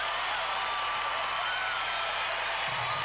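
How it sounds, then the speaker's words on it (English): Arena crowd at a 1996 Pac-10 women's gymnastics championship roars and applauds in a dense, continuous wash of cheering after a gymnast's landing, loud and sustained throughout. "the crowd is going berserk"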